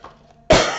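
A woman gives a single sharp cough, close and loud, bursting abruptly after a brief quiet hum and trailing off quickly.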